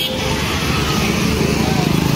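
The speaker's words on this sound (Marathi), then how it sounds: "आणि गाड्या थांबायचाच नाव नाही घेत।" Roadside traffic rumbles past at a highway stop during a road trip, a loud continuous engine drone with vehicles passing close by, while voices talk over it.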